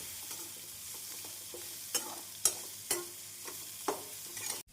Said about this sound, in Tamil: வெங்காயம் இஞ்சி பூண்டு இந்த அளவு வதங்கவும்